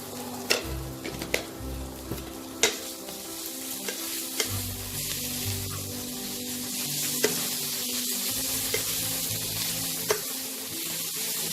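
Chicken with turmeric and salt being stirred in a pan, with a steady soft sizzle under repeated sharp scrapes and clicks of the utensil against the metal, no talking.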